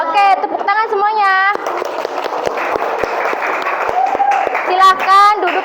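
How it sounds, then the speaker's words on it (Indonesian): Schoolchildren in a third-grade primary classroom clap together after a round of exercises, a steady close patter of many small hands mixed with children's voices and shouts throughout. "Oke, tepuk tangan semuanya."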